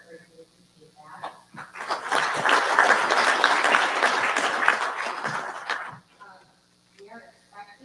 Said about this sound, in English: So a big round of applause and thank you so much for everybody's support.